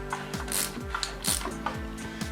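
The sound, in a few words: ratchet turning over a 350 engine by hand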